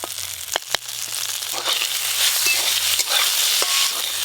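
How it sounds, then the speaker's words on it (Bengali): Neem flowers fry in hot oil with a steady, bright sizzle and crackle, broken by a couple of sharp clicks near the start. "নিম ফুল তেলে একটু ভালো করে নিম ফুলগুলো ভাজা ভাজা করব"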